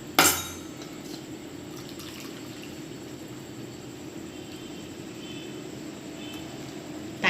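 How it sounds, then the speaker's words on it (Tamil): Water pouring off pressure-cooked brinjal being drained from a pressure cooker, a steady continuous splashing trickle with a few metallic clinks at the start and end, no voices. "தண்ணியை சுத்தமாக வடிச்சிடுங்க,"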